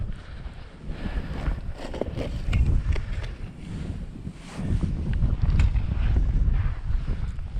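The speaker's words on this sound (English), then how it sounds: "Probably the damn wind." Wind blows across a snowy frozen lake, buffeting the microphone with continuous rough rumbling gusts that rise and fall, loud and close, with no voices.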